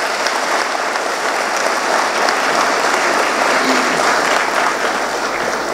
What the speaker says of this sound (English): I think this is the best time to give an applause to your parents and guardians